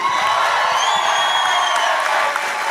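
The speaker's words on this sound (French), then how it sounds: "Mesdames et messieurs, un tonnerre d'applaudissements pour Maud Landry!" Studio audience of a French-language TV game show applauding and cheering a guest comedian, steady dense crowd noise with whoops and a host's voice carrying over it throughout.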